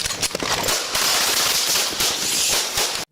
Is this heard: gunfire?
yes